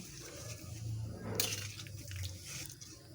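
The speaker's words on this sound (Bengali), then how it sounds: "এবার পরিমাণ মতো পানি দিয়ে দেব" Water being poured into a pot of braised mutton that has been cooked down with coriander powder, a steady, moderately loud rushing pour lasting a few seconds with a brief splashy burst partway through.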